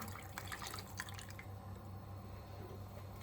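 Hot water poured into a cooking pot while preparing Turkish meatball soup, a soft close trickle and dripping of liquid that fades to a quiet hiss after the first second and a half.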